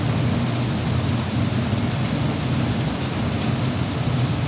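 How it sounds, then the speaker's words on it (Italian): Heavy rain pours steadily outside a home window, a dense continuous hiss and rumble with no breaks and no voices. "non credo si riesca a vedere la pioggia che cade giù, veramente una cosa da paura proprio"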